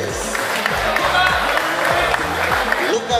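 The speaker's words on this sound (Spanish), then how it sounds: "Fuerte el aplauso." Crowd applause for the winner of a catch-and-release fishing tournament in Pilar, Paraguay. It is steady and dense, with an announcer's amplified voice running underneath.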